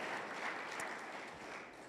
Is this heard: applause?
yes